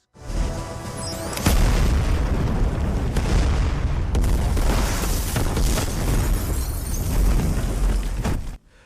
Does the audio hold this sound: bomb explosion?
yes